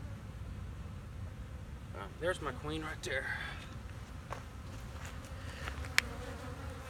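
Honey bees hum softly and continuously at close range on hive frames while a person speaks briefly over the buzzing, with a few light handling knocks.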